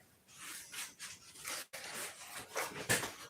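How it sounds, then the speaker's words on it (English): A sandpaper stick rubbing against a part of a P-47 model: short, close, raspy scraping strokes in an uneven rhythm, quiet, with no talking. "So I gotta sand a little bit right there."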